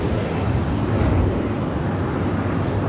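A United Boeing 757 airliner, flight 520 to Newark, rumbles at LAX as a steady broad jet roar with wind buffeting, moderately loud and without voices.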